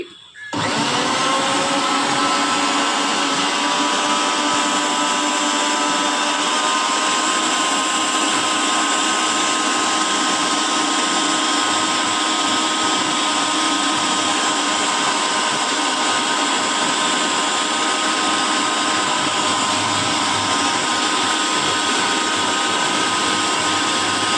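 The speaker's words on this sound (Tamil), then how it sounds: "மிளகா வத்தல் போட்டோம்னா அது எந்த அளவுக்கு ஃபைனாக திரிச்சு கொடுக்குன்னு சொல்லி தாங்க பார்க்க முடியும்" A Bajaj 1000W mixer grinder grinds dried red chillies and turmeric, starting abruptly and then running as a loud, steady, high-pitched whirring drone for over twenty seconds, close up and without a break.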